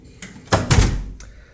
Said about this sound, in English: It's a little rough opening the door